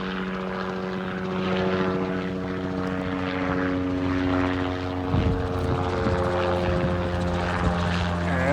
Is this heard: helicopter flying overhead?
yes